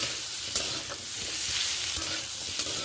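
Potato and pumpkin pieces fry with turmeric in a pan for a five-spice vegetarian dish, a steady close sizzle broken by a few scraping stirs.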